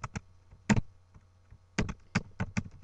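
Typing on a computer keyboard in short bursts of close, crisp key clicks with brief pauses between groups, no talking.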